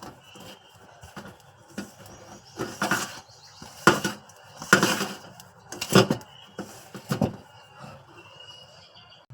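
Ingredients for mathi parathe mixed by hand in a bowl with salt and oil, giving a series of soft rubbing and patting bursts at an uneven rhythm, close up with quiet gaps between.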